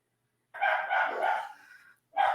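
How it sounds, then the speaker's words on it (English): Dogs barking and howling in the background, a drawn-out wavering bark-howl lasting over a second followed after a short gap by another bark, moderately loud and heard alone without talk. "We hear the dogs."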